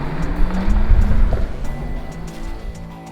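A Porsche Taycan Turbo S electric car accelerates hard, a low rushing road and wind roar with a faint rising electric whine, loud and close, tapering off over a few seconds.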